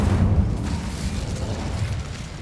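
Incendio fire spell in Hogwarts Legacy, a dense, rumbling roar of flame that fills the whole moment at steady loudness, deep and booming with a hissy upper layer and no distinct pauses.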